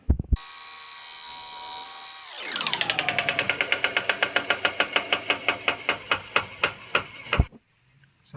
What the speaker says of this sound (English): going to go cut the dowel now.